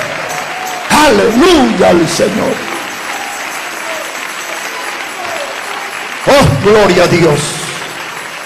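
A church congregation applauds Jesus with loud, dense bursts of clapping and cheering, interrupted by a quieter stretch in the middle. Someone shouts praise over the first burst and again over the second.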